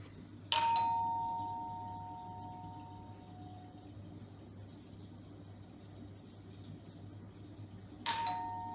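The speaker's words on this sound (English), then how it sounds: "That doorbell can be edited in" Two separate doorbell chimes ring out, one near the start and another near the end, each a bright ding with ringing tones that fade over a low steady hum.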